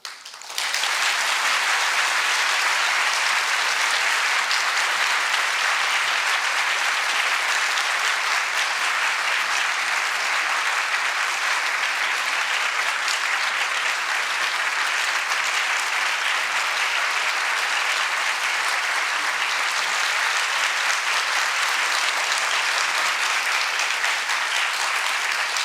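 A hall audience at a Korea University engineering college anniversary lecture bursts into loud, sustained applause to welcome Ban Ki-moon, a dense, steady wash of clapping that holds for the whole stretch with no voices over it.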